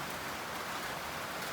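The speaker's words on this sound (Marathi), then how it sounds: "तेवढाच पाऊस चालू झाला" Rain falls during a sun shower, a dense, even hiss of drops on surfaces that holds steady and soft from start to finish.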